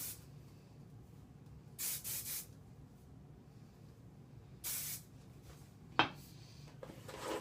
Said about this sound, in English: So I'm going to take this part, spray it